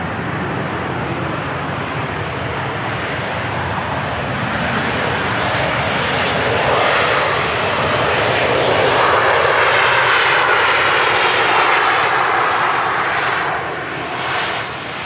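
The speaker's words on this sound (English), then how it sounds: "Another one of the older Ryanair aircraft with the retrofit winglets there." Ryanair airliner taking off at Manchester Airport, a loud, steady jet engine roar swelling slightly as it climbs away, with no talk.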